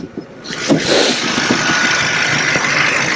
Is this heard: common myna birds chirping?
no